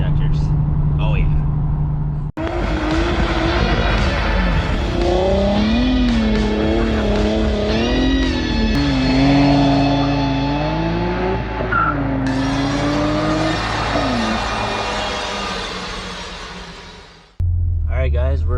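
Toyota Supra Mk IV with an HKS 2.8 liter stroker engine, DR500 turbos and bigger injectors revs loudly and continuously, pitch rising and falling through the gears, close and dominant with a brief cut near the start and end.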